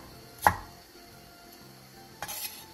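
A knife cuts yellow and red bell peppers into thin strips on a board, just two separate sharp knocks about two seconds apart, close but quiet, with near silence around them.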